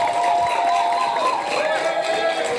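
An audience at a law faculty awards ceremony cheers and applauds for the top student in employment law, producing a sustained, dense wash of crowd noise with some shrill whoops over it.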